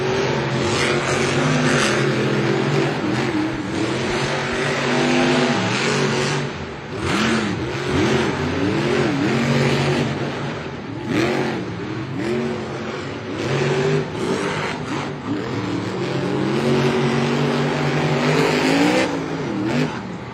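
Monster truck El Toro Loco revs hard and races at a Monster Jam stadium event, a loud sustained engine roar with rising and falling revs and repeated throttle surges across the whole stretch.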